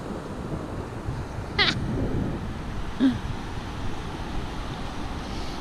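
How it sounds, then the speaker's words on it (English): Surf rolls onto a wide, nearly empty Atlantic beach on France's coast at Le Barre-de-Monts on a calm, sunny September day; a soft, steady wash of waves with light wind, plus a couple of brief nearer knocks. "That's a huge beach."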